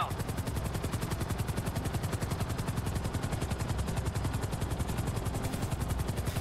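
Helicopter flying in Grand Theft Auto V: a loud, steady, rapid rotor chop throbs evenly and continuously up close, with no voices over it.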